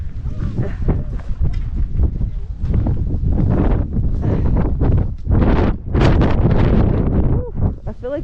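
Strong gusting wind on the climb up Mount Fuji, roaring and buffeting the microphone almost continuously in loud surges with brief lulls, with faint talk mixed in.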